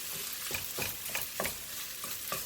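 Egg fried rice with soy sauce is stirred in a hot pan, rhythmic scraping strokes about every half second over a soft sizzle, close and fairly quiet.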